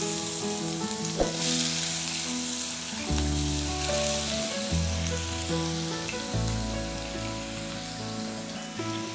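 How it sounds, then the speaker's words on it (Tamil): Continuous crackling sizzle of onions frying in oil, close up, with occasional scraping stirs and a low hum underneath; no talking. "இப்போ வெங்காயம் நல்லா வதங்கிடுச்சு"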